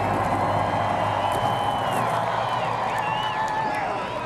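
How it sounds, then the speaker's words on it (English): A crowd roars in the grandstands at the 2015 Coke Zero 400 NASCAR race, a dense, steady wash of cheering that holds at a constant loud level throughout. "You hear the roar of the crowd."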